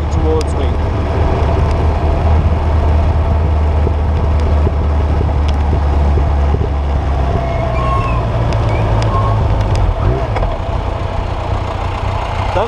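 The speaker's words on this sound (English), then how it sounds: "I can see a tractor coming towards me" A steady low engine rumble of a tractor runs throughout, with road and wind noise; a voice talks briefly over it.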